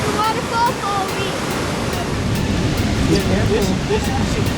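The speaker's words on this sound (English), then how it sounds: "Now that's the biggest waterfall I've ever seen." A large waterfall on the Lewis River roars as a steady broadband rush, with a wind-like hiss of falling water beneath faint voices in the background.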